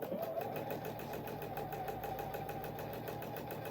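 A PFAFF Performance 5.0 sewing machine with a 9 mm stitch width runs steadily under foot-pedal control, a continuous quiet mechanical hum with rapid, even needle ticking, close and alone.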